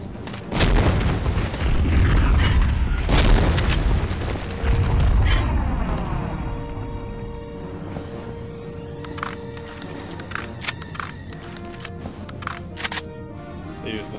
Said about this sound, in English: You throw a grenade to yourself.